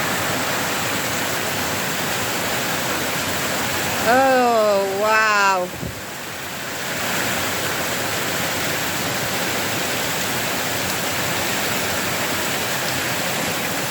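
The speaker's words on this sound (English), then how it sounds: "Winemaking's been interrupted by this terrible storm." Steady, heavy September rainstorm roars loudly and continuously throughout, in central Portugal, with a short exclamation from a voice partway through.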